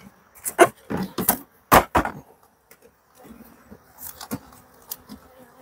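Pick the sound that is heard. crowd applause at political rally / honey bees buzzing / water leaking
honey bees buzzing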